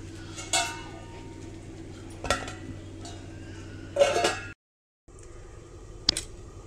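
A spoon stirs stuffed bitter gourd with a coconut masala in a pan, making four sharp metallic clinks and scrapes spaced a couple of seconds apart over a steady low kitchen hum.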